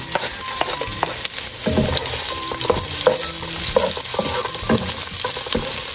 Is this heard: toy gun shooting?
no